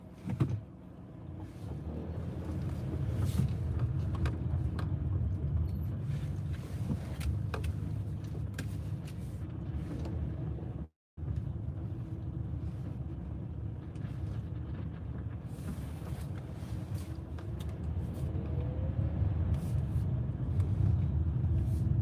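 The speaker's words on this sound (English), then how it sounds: "we're gonna try to turn our car around" Steady low engine and road rumble from inside a moving car as it turns around, continuous and fairly loud apart from one brief dropout midway, with no talking.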